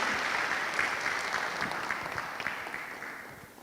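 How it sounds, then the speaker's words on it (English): Concert audience applause after a piano performance, a steady wash of clapping at moderate distance that gradually fades, with no voices over it. "Let us give a huge round of applause for Miss Mariana and all of the astounding performers tonight."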